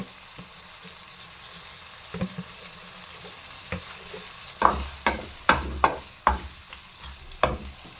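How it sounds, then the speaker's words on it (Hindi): Onions sizzle gently in oil in a pan for aloo gobi, a soft steady frying hiss broken by a run of sharp spoon clatters and stirring scrapes in the second half. "चम्मच भर के हम ऑयल डाल देंगे। प्याजों को हल्का ब्राउन होने देते हैं।"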